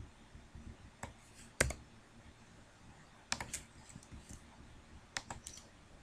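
Keys tapped on a computer keyboard while PHP code is written: a few sparse, faint clicks and short bursts spread across a quiet room background.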